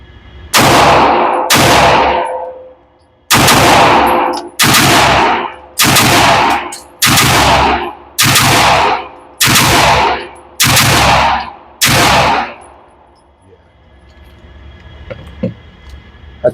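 Nine loud, closely spaced gunshots ring out from compensated pistols, a MAC9 DS Comp and an Alpha Foxtrot Romulus, each sharp crack trailing a short echo before fading into quiet ambient noise.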